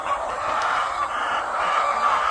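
Chickens cluck continuously inside a crowded chicken house where eggs are being collected, a dense, steady chorus of fowl voices with no talk over it.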